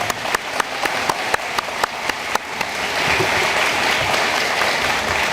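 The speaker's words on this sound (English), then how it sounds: "I would like to give another round of applause for our student speakers." Audience applause at a graduation ceremony for adult high school and equivalency students, opening with a few sharp, distinct claps that quickly swell into a steady, dense wash of clapping from a large crowd indoors.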